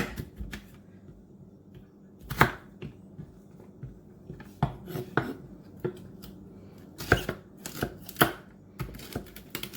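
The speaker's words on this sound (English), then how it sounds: "I'm going to chop up 2 stalks of celery" A dull knife chops celery stalks and their leaves on a cutting board for a salami pasta salad, giving irregular sharp knocks and crunches close by, some spaced apart and a quicker cluster near the end.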